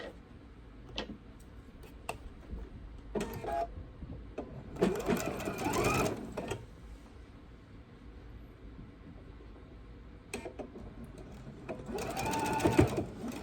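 Sewing machine stitching fabric for a bowl cozy, running in several separate bursts of rapid mechanical whirring, the longest near the middle and the last toward the end, with quieter pauses between.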